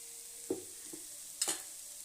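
Spinach thoran cooking in a pan with coconut oil gives a faint, even sizzle, broken by two or three soft clinks of a utensil stirring, quiet and close, with no voices.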